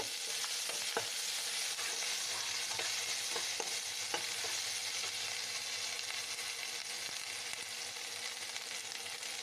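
Spice paste stirred in a hot frying pan for chicken and potato pakoras, with a steady sizzle of frying throughout and soft scrapes and taps of the spoon scattered across it, close and fairly quiet, no voices.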